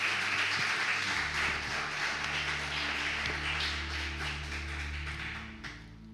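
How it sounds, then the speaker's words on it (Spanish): Church congregation applauding together at a family worship service, a dense wash of clapping that tapers off toward the end. "¿Cuántos dan un fuerte aplauso al Señor?"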